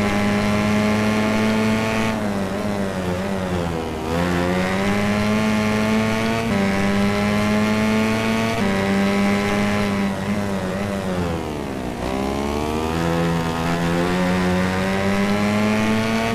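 Motorcycle engines in the MotoGP 13 racing game hold a loud, steady high-pitched whine, dipping and climbing again with gear shifts every few seconds throughout.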